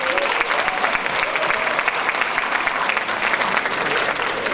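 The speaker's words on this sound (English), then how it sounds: "Can we please have a round of applause for them?" A literary panel audience breaks into a loud, full round of applause, many hands clapping densely and steadily from start to finish.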